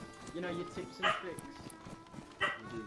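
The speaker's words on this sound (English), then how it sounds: "Excuse the dogs." Dogs bark a few times in short bursts at medium distance during a DayZ gaming stream, sitting under steady conversational talk from a man.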